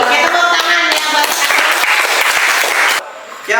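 Applause from an audience at a university teacher-training class presentation in Indonesia, dense and loud, lasting about three seconds before dropping away abruptly.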